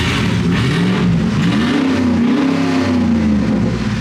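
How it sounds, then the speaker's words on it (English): A Ford F150 pickup truck with its resonator deleted revs loudly and close by, a deep continuous exhaust roar whose pitch swells slowly up and back down over a few seconds. "So this is what the truck sounds like just with a resonator delete."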